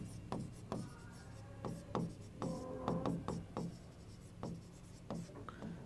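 Pen strokes on paper during a chemistry lesson, a quiet series of short scratchy taps and scribbles in irregular rhythm, close and faint with no talk.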